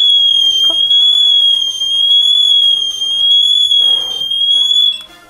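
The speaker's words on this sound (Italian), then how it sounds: "mentre aspettiamo che l'allarme viene attivato, ricordiamo che metterà appunto un suono da 85 decibel, quindi è abbastanza forte" A Netatmo smart smoke detector sounds its loud 85-decibel alarm, a piercing, steady high-pitched electronic tone held close and continuous before cutting off at the end, with faint handling noises beneath.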